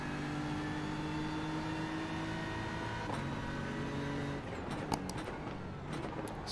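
A BMW GT3 race car runs at Watkins Glen in iRacing, its engine holding a steady, fairly quiet drone with a few faint clicks near the end.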